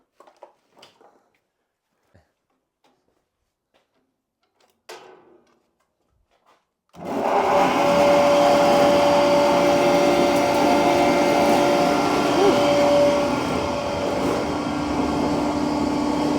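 A BZAGRO agricultural grain machine starts up abruptly after a few quiet knocks and handling sounds, then runs with a loud, steady broadband mechanical roar and a faint whine throughout.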